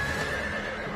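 A horse whinnies over the clip-clop of hooves, close and fairly loud, in a short burst of medieval jousting atmosphere.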